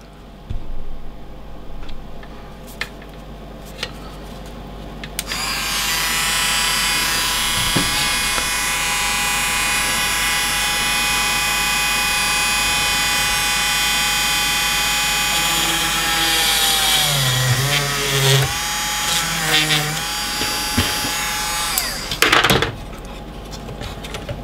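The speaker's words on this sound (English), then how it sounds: "So I can drill the first hole." Drilling a hole in the metal chassis of an FDK Multi-2000 radio: a few clicks, then a power drill whines steadily at close range for about seventeen seconds, bogs down in pitch as it bites, and stops with handling noise.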